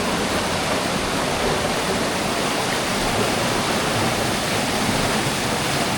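Strong rushing water from a forest waterfall or stream roars steadily and loudly, a dense unbroken wash of noise with no voices over it.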